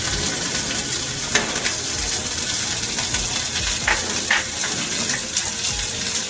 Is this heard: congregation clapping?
no